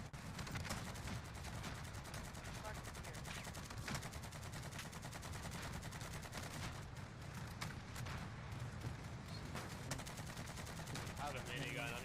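Rapid, continuous minigun fire in Call of Duty Warzone, dense rattling bursts sustained throughout at a fairly quiet level with other game sounds mixed in.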